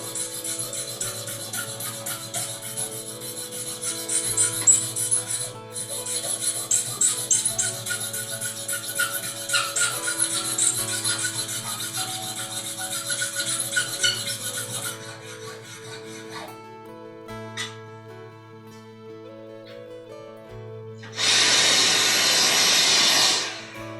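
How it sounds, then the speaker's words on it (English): A dulcimer part is sanded by hand, giving steady rasping strokes in a busy rhythm over a faint background tone, then a louder, continuous hissing rush near the end. "It's like the hardest part right here is all of this sanding."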